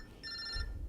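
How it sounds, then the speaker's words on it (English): A mobile phone ringtone sounds briefly, a short bright electronic ring from a nearby handset in a quiet room. "Oh, that is my phone."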